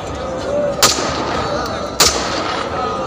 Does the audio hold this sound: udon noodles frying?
no